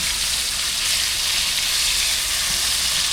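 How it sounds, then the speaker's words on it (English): Oxtail searing in a hot pan for Jamaican oxtail, a loud, steady sizzle of fat and meat that stays even and close throughout, with no voices over it. "So you sear it and pull it out, you put it in a pan and then you add it back."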